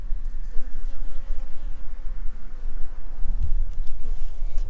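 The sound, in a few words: bees buzzing around beehives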